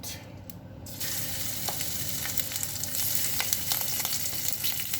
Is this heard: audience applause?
no